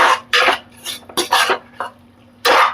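Pav bhaji masala and red chilli powder being stirred in a pan at home, with repeated scraping, clinking strokes of a utensil against metal in short bursts and brief pauses between them.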